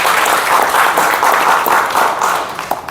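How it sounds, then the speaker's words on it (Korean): An audience at a lecture claps to welcome a cellist and a baritone to the stage, steady, loud, even applause that carries through the whole stretch and fades slightly at the end. "여러분 박수로 맞아주시기 바랍니다"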